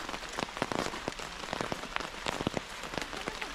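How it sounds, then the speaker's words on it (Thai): Heavy rain falls in Kamikochi, the alpine valley by the Azusa River in western Nagano, Japan, a dense, steady patter of drops striking surfaces close by with sharper individual splashes scattered throughout. "ฝนตกหนักมาก"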